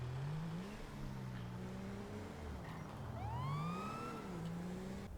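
A police car siren wails in the distance, its rising and falling tone riding over a constant rumble of traffic.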